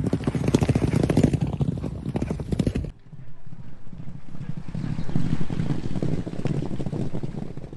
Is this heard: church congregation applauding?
no